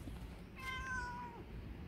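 A cat meows once behind a cafe on the KAIST campus, a clear, moderately near cry lasting under a second over soft outdoor background noise.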